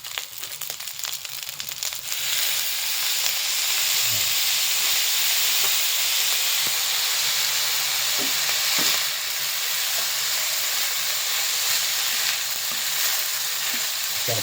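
Loud, bright hissing sizzle of soy sauce poured into a hot frying pan at breakfast, rising sharply after a couple of seconds and holding steady, with occasional clinks of stirring and no talking.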